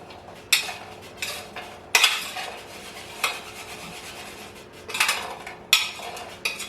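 Seasoned roasted chickpeas get stirred with a utensil that scrapes and clinks against the dish in irregular sharp strokes, fairly close, with a faint background hum.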